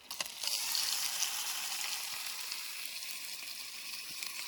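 Chinese-style pork sizzling in a pan over a campsite stove in the backcountry of Algonquin Park, a steady bright hiss that swells early and then settles into a continuous moderate fry.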